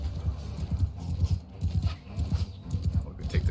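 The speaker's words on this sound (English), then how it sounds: "Horse got in the way." Horse hooves clip-clop in the video game Mount & Blade Bannerlord, a quick, rhythmic galloping patter that runs throughout at close range with brief dips.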